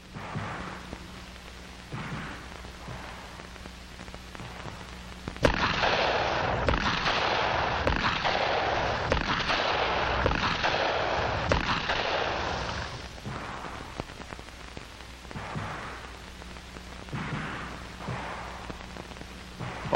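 Handgun shots fired at a target during 1965 FBI firearms training, shot from a crouch. Dull, spaced shots sound over a steady old-film hum, with a long, loud stretch of dense rumbling fire in the middle.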